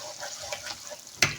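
Chicken white karahi with cream being stirred in a pan over a low flame, a soft continuous scraping and sizzle with one sharp louder clack near the end.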